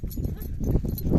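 A large stallion's hooves thud and shuffle nearby in a muffled, uneven rhythm, with low animal movement and some background voices.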